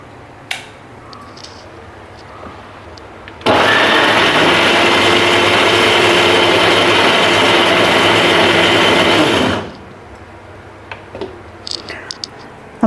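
A kitchen mixer grinder runs at full speed for about six seconds while grinding ingredients for halwa, a loud steady whir that starts and stops abruptly, with quiet kitchen clatter before and after.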